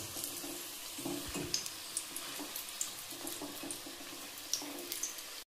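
Banana flower chops frying in batches in hot oil, a steady soft sizzle with scattered crackles and pops, fairly faint and close, with no talk.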